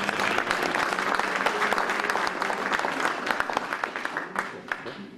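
A hall full of delegates at a Circassian associations federation general assembly claps loudly and continuously, sharp individual claps standing out near the end as the applause thins and fades.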